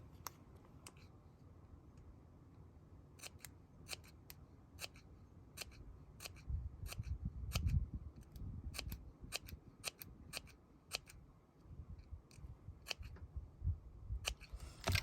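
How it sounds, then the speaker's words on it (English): Scissors snipping a 1-inch-wide paper strip into grass-like fringe for a gate fold card, a quiet, close series of sharp, evenly spaced cuts over low background rustle. "So I need to trim this 1 inch wide. And then I can snip it to look like grass."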